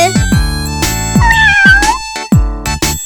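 A cartoon kitten meows repeatedly in short, loud, bright calls, several in quick succession with one longer wavering meow in the middle, set against a steady musical backing with no talking.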